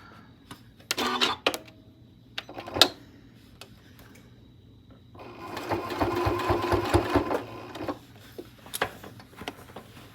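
Sewing machine stitching a quarter-inch seam, a close, steady run of rapid mechanical stitching lasting a few seconds, with scattered clicks and fabric handling before and after.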